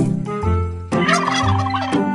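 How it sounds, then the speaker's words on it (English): A domestic turkey gobbles loudly and close by in two rapid, rattling bursts, clear and alone with no voices over it. "Turkey."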